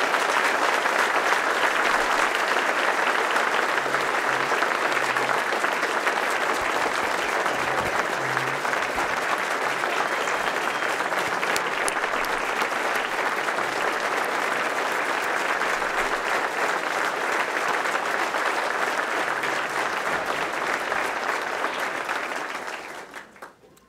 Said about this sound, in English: Give Ron another big round of applause.